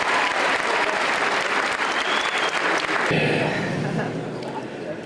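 An audience at an awards presentation gives a steady, dense round of applause that continues for several seconds before easing slightly, with voices mixed into the crowd noise.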